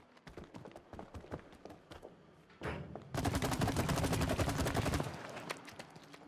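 Rapid gunfire in the co-op video game It Takes Two, a loud sustained stream of shots after a sharper blast, preceded by scattered lighter impacts and footsteps, with no speech.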